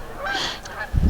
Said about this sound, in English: Stinking geese.